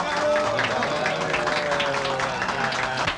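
A crowd applauding in a scene from an old Turkish film, loud dense clapping that runs steadily for about three seconds with a faint hum beneath.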